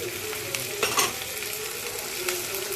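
Chopped beans and capsicum stir-frying for egg chowmein, a steady close sizzle with a few brief spatula scrapes and clatters against the pan.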